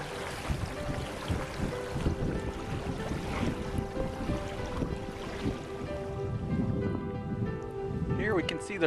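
Wind blowing over open water while sailing on the Great Salt Lake, a steady breezy rush with water lapping against the boat, moderately faint and continuous.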